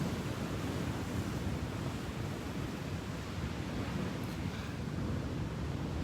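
Ocean waves wash steadily onto a beach, a continuous broadband roar of surf with some wind rumble on the microphone, close and constant throughout with no talking.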